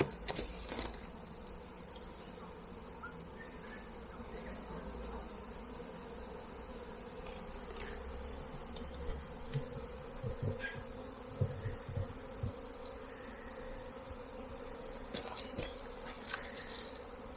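A honey bee swarm drones around a hive at a Bendigo home, a steady mid-pitched buzz of many insects close by with faint knocks and rustles.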